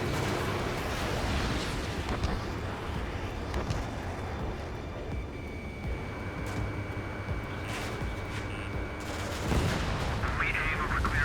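Combat jet gunfire and explosions in the video game Ace Combat 7: Skies Unknown, with rapid bursts and booms over steady engine roar, fairly quiet in the mix while radio voices talk over the action.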